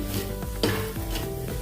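Spice masala roasting in a pan over a low flame for soya rice, a soft continuous sizzle with quick scrapes and stirring clatter from a utensil, close up and alone.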